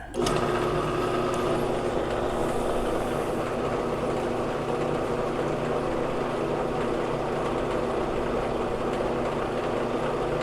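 Electric trailer brake drum spinning on a resurfacing lathe, a loud continuous mechanical whir with a rhythmic clatter, starting abruptly and running steadily at close range with no talking.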